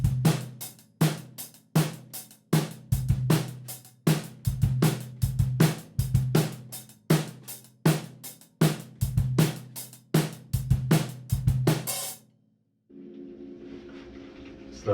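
A drum kit plays a steady beat with eighth-note hi-hat, snare on two and four and kick drum, loud and close, with the beat repeating through most of the clip. It then stops abruptly and a short, quieter tonal sound follows.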